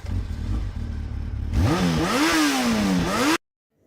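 Motorcycle engine revving up loudly after a quieter rumbling idle, the pitch climbing and falling through several throttle blips before cutting off abruptly.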